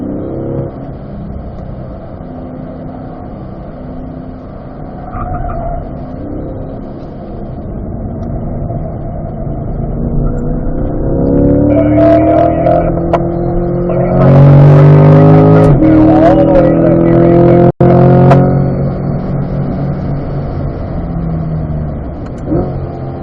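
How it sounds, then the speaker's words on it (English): C8 Corvette on a race track at Spring Mountain driving school, its engine rising from a steady drone into a loud, building full-throttle roar with gear changes, close and dominant throughout. "Trying to get the car full throttle before the apex goes."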